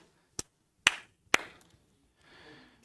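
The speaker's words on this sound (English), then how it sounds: "I'm clapping like the Joker from Batman." Three sharp, isolated hand claps spaced about half a second apart in a quiet room, the last two ringing slightly, followed by faint rustling.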